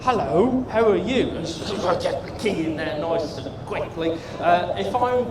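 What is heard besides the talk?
No everyday noise stands out behind the speech.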